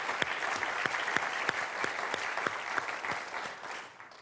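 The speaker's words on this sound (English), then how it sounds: "I want to start with giving ourselves a big applause." Audience at a microfinance community anniversary event applauding steadily, a broad wash of many hands clapping with a few sharper claps standing out, fading slightly at the end.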